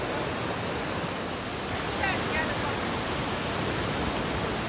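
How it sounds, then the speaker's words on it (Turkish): Iguazu Falls on the Brazilian side: a dense, steady roar of falling water, fairly loud and unbroken throughout, with no clear talking. "Şelaleye yaklaştıkça görkem büyüyor."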